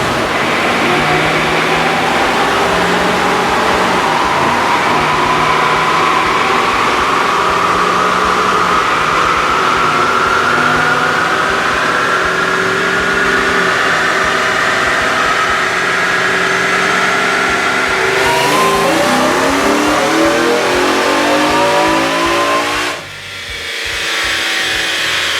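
Supercharged 2018 Roush Ford F150 four-wheel-drive pickup running on E85, revving hard in one long sustained climb on a dyno, loud and close, then cutting off abruptly near the end.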